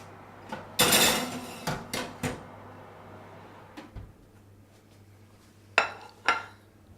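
Roasted red peppers are taken out of a hot oven, with a handful of sharp metallic clanks and clatters of tray and oven rack, spaced irregularly over a low steady hum.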